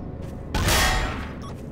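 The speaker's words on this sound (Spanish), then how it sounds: "Escucho un disparo" A single sharp gunshot in the video game Trouble in Terrorist Town bursts out midway, loud and close, then trails off in a rumbling decay against a low background.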